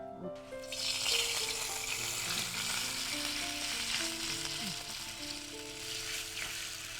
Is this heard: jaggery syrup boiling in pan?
yes